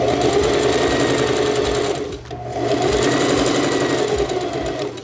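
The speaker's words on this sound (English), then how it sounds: "I just set my tension real high. The stitch length is also high." A sewing machine runs fast with high thread tension and a long stitch length to gather fabric for a patio catio project, a loud steady mechanical whir with a brief pause midway, no talking.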